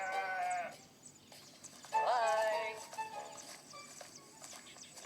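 Sheep bleat several times in a wavering, drawn-out way, with a first call, a louder second one about two seconds in, and a quieter murmur of livestock and rustling in between.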